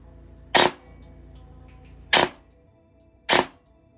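Airsoft AEG with a Double Eagle MOSFET in a Version 2 gearbox firing three separate single shots, each a sharp close crack spaced about a second apart over a quiet background.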